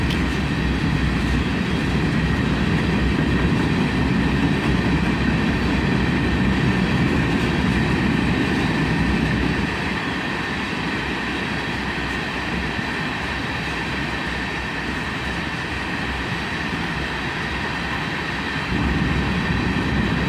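A long CSX freight train rolls steadily past at close range, a continuous loud rumble of wheels and cars that drops slightly in intensity partway through as the consist continues by, with no talking.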